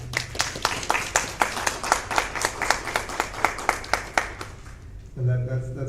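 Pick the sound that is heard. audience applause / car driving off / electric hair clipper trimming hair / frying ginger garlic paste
audience applause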